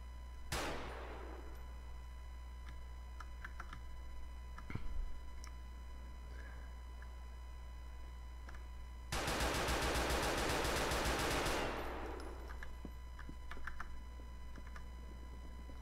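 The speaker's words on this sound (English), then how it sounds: "He's now shooting at vehicles responding." AK47 gunfire in the GTA IV video game: a single shot early on, then a long, loud sustained burst of automatic fire lasting a couple of seconds, with no talking.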